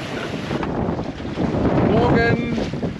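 A sailboat runs at 5.5 to 6.5 knots across the open Pacific in 16 to 20 knots of wind. Loud, gusting wind buffets the microphone over a steady rush of water along the hull.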